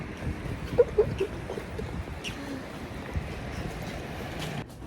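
Cold wind blows outdoors, a steady low rumble with a few gusts buffeting the microphone, near and moderately loud with no voices.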